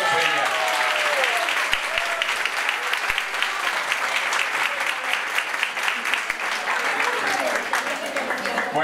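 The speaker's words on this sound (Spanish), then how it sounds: "Venga, un aplauso a Jorge" A crowd claps steadily at a diploma ceremony for memory workshops, the sustained, full applause mixed with audience voices throughout.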